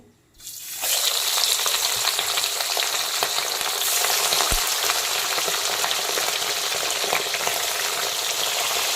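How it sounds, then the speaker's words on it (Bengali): Parshe fish rubbed with salt and turmeric hit hot refined oil with a sudden burst of loud, crackling sizzle that keeps going steadily, with one small clink partway through. "এখন আমি লবণ আর হলুদ মাখানো পার্শে মাছগুলোকে একে একে তেলের মধ্যে দিয়ে দেব"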